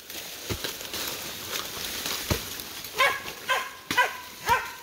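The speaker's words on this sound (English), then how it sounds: "Right now, there are two dogs in the hole" Two dogs down inside a freshly dug hole in the ground, giving a series of muffled barks and yips, several sharp bursts spaced irregularly over a background of outdoor noise.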